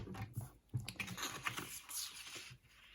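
A paper trimmer or blade slices a strip of paper for a tea-bag pouch craft, giving soft, close scraping and clicking taps over about three seconds at low volume, with no voices.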